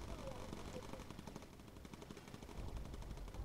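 Rapid machine gun fire from a B-17 Flying Fortress gunner in the Bomber Crew video game, a steady stream of quick rattling shots at low volume throughout.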